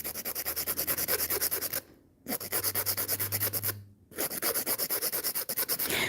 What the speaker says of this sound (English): This is an 80/80 grit file.